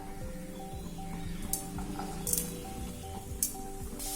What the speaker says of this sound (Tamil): வெங்காயம் கொஞ்சம் நேரம் வதங்கட்டும்.